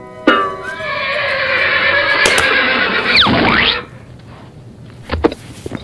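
A horse in an animated film gives a loud, drawn-out whinny that rises and wavers before breaking off, then a few faint knocks follow in near silence.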